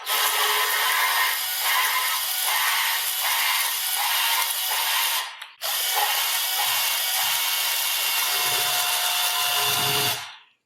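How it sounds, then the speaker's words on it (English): Engine valves for a Willys MB engine being hand-lapped with grinding paste using a short rubber pipe, producing close, continuous abrasive rubbing and scraping in rhythmic back-and-forth strokes, with a brief pause midway. "For grinding in the valves, just a bit of rubber pipe."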